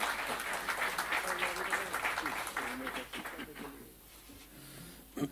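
An audience applauds at a live music show, clapping blended with voices and cheering that fades away after a few seconds.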